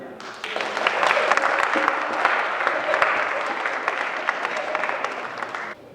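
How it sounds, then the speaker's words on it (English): Audience applauding the Winneba Youth Choir at a concert in Sweden, sustained dense clapping from a crowd that builds quickly and holds steady for several seconds before tapering off. "another round of applause for the Winneba Choir"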